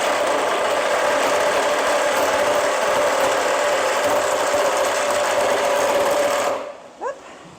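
A Sawzall reciprocating saw with an ill-suited blade cuts through screws on a storm-damaged roof, a loud, steady buzzing rattle that runs continuously for several seconds and then cuts off abruptly, leaving a brief faint knock.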